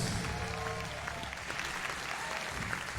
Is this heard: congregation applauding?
yes